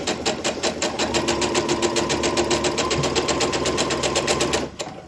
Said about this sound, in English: make sure my sewing machine is stitching nicely